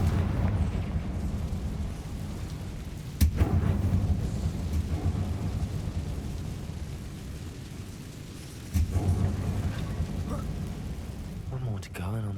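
Confringo blasting spells explode in Hogwarts Legacy, two sharp booms several seconds apart over a steady rumbling ambience, with a voice talking in between.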